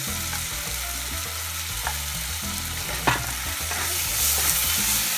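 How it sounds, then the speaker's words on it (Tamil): Tomatoes and chili powder fry and sizzle loudly in a pan for a nethili karuvadu fry, with steady stirring scrapes and clinks of a spoon over continuous close crackling and no voices. "பச்சை வாசனை போகிற வரைக்கும் கொஞ்சம் கிண்டிக்குவாங்க கிண்டிக்கிட்டே இருங்க"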